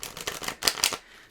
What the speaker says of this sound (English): So let's give these another big shuffle in front of you so you can